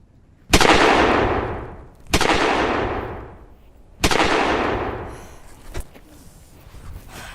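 Three loud gunshots ring out about two seconds apart, each a sharp crack followed by a long echoing tail, with a faint clatter after the last.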